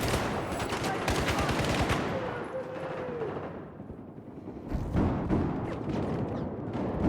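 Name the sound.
gunfire in video game Battlefield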